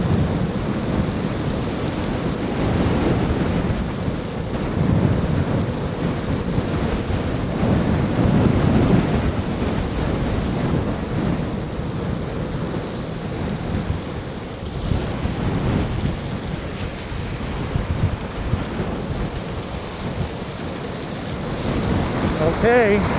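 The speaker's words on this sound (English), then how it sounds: "We're actually going up against a headwind" Strong headwind roars continuously against a microphone while riding an electric scooter along a road in New York City during a snowstorm, a loud broadband buffeting rush with surging gusts throughout.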